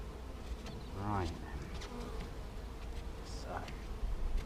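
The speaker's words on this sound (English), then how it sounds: "There are bees inside" A honeybee swarm hums with dense, steady buzzing close by, while a person speaks intermittently over the droning insects.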